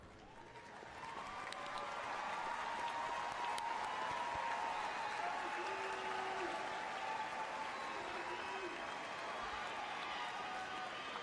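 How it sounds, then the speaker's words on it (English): Sustained applause from a large crowd at a college commencement, swelling after the first second and holding steady, heard from a distance in a big space. "well-deserved round of applause."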